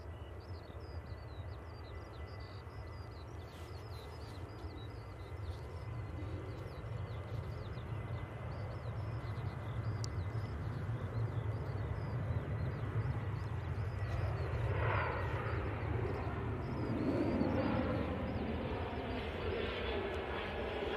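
A Jet2 airliner departs Manchester Airport, its jet engines a broad steady roar heard from a distance that swells gradually louder over about twenty seconds, with no talking.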